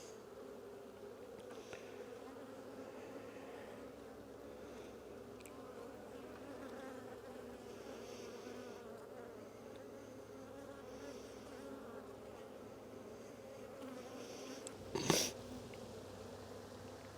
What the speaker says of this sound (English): these bees are going to be out stinging me